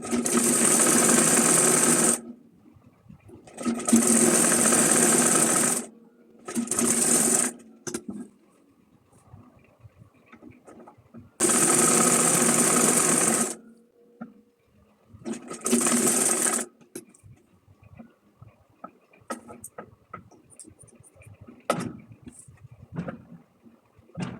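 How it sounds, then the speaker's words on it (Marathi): A sewing machine stitches a fabric strip for a folded cloth bag, running in several loud, close bursts of steady whirring separated by short pauses, with no talking. "पट्टी व्यवस्थित शिवून घ्यायची आहे अशी व्यवस्थित या पद्धतीने."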